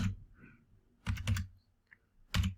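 Bursts of key clicks from someone typing code for a shuffle function on a computer keyboard, with a short cluster near the start and two denser flurries later, close and moderately loud.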